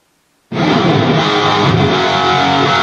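Heavily distorted electric guitar through two sets of speaker cabinets blended together, starting abruptly after a brief silence and ringing out as a loud, thick, sustained chord.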